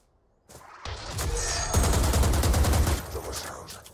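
Rapid bursts of gunfire in the PC shooter Valorant crackle in quick succession, loud and dense, then taper to scattered shots.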